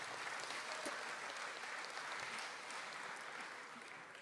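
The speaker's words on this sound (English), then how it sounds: "Come on, give yourselves a great round of applause." Sustained round of applause from a crowd at a high school modernization celebration, steady clapping that tapers slightly toward the end, with no talking.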